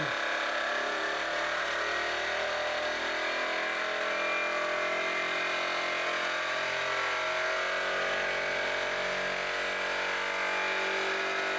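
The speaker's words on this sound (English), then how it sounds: "But I'm gonna go up and hit 3000." An engine on a crankshaft inertia testing rig revs steadily up toward 3000 RPM, giving a continuous close mechanical drone with rising tonal whine and no speech over it.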